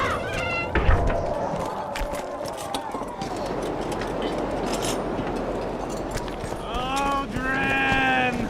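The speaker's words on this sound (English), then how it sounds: "You got a black cat." A black cat in the video game The Witcher 2 meows in several drawn-out calls near the end, over clopping hooves and busy game ambience, with voices talking throughout.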